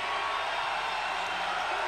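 Steady, dense roar of a men's college basketball crowd at an Air Force Academy home game, cheering continuously with no breaks, loud and close, filling the space as the home team rallies late in a tight game.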